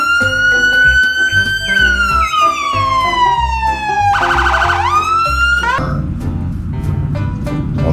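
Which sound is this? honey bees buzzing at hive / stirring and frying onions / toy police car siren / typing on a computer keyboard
toy police car siren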